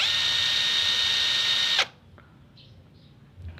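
An APR cordless impact wrench whirs steadily at low speed for nearly two seconds, then cuts off abruptly, leaving quiet workshop background with a few faint clicks.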